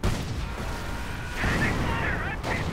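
Artillery barrage in a World War II video game set on city outskirts: continuous heavy rumbling blasts and booms, loud and dense throughout, with a voice speaking over them.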